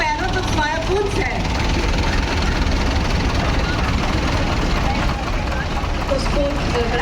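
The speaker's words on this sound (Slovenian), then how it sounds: "traktor Porsche, letnik 56" A 1956 Porsche tractor engine runs steadily at a farm festival with old and new tractors and horses, a dense low rumble close by and continuous for the whole stretch, with indistinct crowd voices mixed in.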